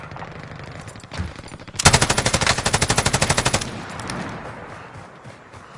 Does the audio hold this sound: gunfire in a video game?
yes